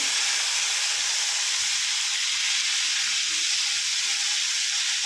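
Dried prawns fry with turmeric in hot oil in a pan, giving a steady, even hiss of sizzling that fills the whole stretch without a break, close and moderately loud, with no voices.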